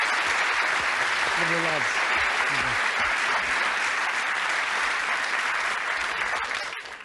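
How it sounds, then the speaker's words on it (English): Warm studio audience applause on a 1992 television game show, loud and steady for several seconds while a voice briefly speaks over it, then easing off at the end. "Give them a warm round of applause."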